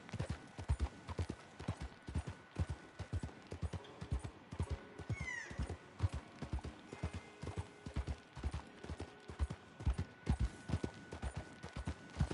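Horse hooves clip-clop in a steady, even rhythm throughout as a horse is ridden in the Red Dead Online video game, loud and close with no voices.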